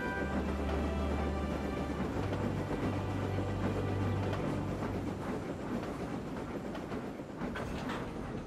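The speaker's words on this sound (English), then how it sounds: "Glynn triumphantly pulled into Wellsworth Station." A cartoon train engine pulls into Wellsworth Station with a steady rumbling, rolling clatter that stays loud and close throughout, easing slightly toward the end.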